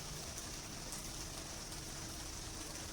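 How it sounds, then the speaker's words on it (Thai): Steady, dense rain falling outside a rented room, a continuous close hiss of drops with no pauses and no voices. "ฝนตกนะจ๊ะวันนี้ฝนตก"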